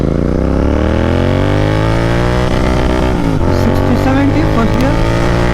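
Royal Enfield GT650 with an RRP exhaust accelerating hard in first gear, a loud, close engine note rising steadily in pitch, then dropping briefly at a gear change before climbing again, with someone talking over it.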